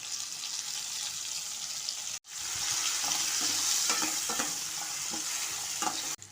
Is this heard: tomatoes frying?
yes